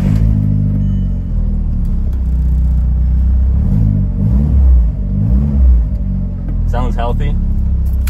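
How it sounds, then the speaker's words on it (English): A track car's engine, freshly cold-started in 95-degree weather, idles loud and close with its deep rumble rising and dipping as the revs swell and settle, plus a brief higher rattle near the end. "let's get a cold start in this 95 degree weather"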